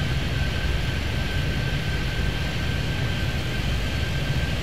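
A jet airliner's engines roar steadily during takeoff in the video game Airport Madness 3D at San Francisco airport, a constant loud broadband rumble with a thin high whine.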